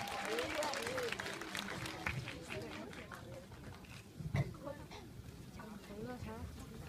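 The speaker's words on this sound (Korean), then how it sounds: "따뜻한 박수 부탁드립니다." Audience applause at an elementary school graduation ceremony in a hall, a steady wash of clapping with scattered voices and chatter mixed in throughout.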